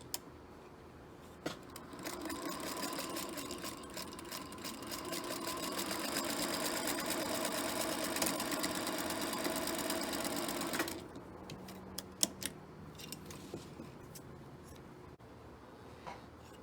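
Close sewing machine runs a quarter-inch quilt seam for about nine seconds, then stops, leaving light handling clicks and taps.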